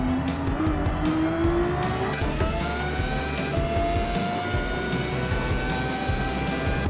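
Race car in Gran Turismo 7, a Genesis VGT on a time trial at Circuit de Sainte Croix, accelerating out of a corner: a steady, loud engine note climbs through the gears, with brief tire squeal and repeated shift bursts.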